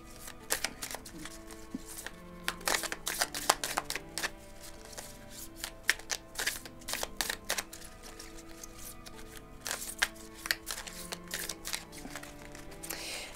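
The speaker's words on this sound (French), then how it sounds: "je vais vous mettre 2 petites cartes de l'oracle des amoureux" Oracle cards for a lovers' reading being handled and shuffled, a busy run of crisp papery flicks, slaps and riffles close by, continuous and uneven with no talking.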